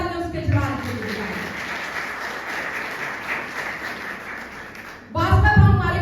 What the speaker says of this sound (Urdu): میں زوردار تالیاں اس کے جلال کے لیے بجاؤں۔